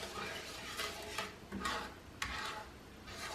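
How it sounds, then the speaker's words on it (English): Sugar-free keto nut brittle candy sauce being stirred in a pan, with soft repeated scraping and clinking strokes at an irregular pace, fairly quiet and close, with no talking. "So you just keep stirring and stirring."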